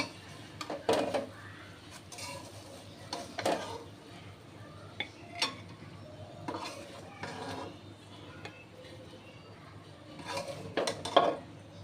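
A metal utensil clinks and scrapes in a pan while cooked katla fish is lifted out for a bottle-gourd curry. Several scattered, fairly close knocks come in small clusters, with no talking.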